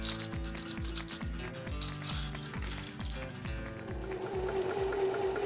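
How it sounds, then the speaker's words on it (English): A sewing machine stitching minky fabric and fur in a fast, regular mechanical rhythm, needle clattering steadily, close and continuous. "Using a sewing machine, carefully trace each paw shape"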